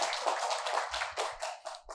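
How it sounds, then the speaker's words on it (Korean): Applause from a seminar audience, a steady dense patter of many hands clapping at moderate volume for a couple of seconds, with no voices over it. "여러분 따뜻한 박수 좀 부탁드리겠습니다"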